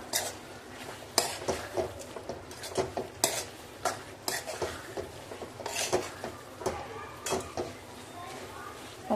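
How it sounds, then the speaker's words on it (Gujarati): A spoon stirs pav bhaji spiced with chili in a pan, giving repeated scraping and clinking strokes in an irregular rhythm over a soft sizzle, with nearby speech in the background. "આને બરાબર રીતે હલાવી દેવાનું છે।"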